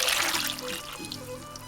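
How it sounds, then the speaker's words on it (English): Water poured into a pot of processed tomatoes and tomatillos, a steady close trickle and splash with a brief liquid gurgle, loudest at the start and then settling into a continuous pour. "I'm going to add a quart of water"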